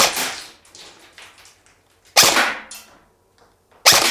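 A KWA Ronin TK.45 Tekken airsoft AEG rifle fires three sharp, loud bursts, one at the start and two more spaced apart, with quieter mechanical rattling and clatter in between.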